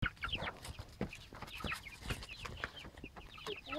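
A baby chicken on a farm clucks and peeps in quick, irregular bursts, close by, with scuffling and rustling between the calls.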